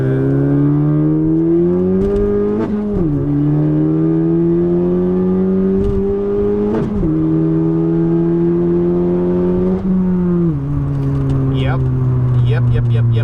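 A 10th gen Honda Civic pulling in second gear, steady engine drone rising gradually in pitch with brief dips at shifts, heard from inside the cabin with continuous loud road and engine noise.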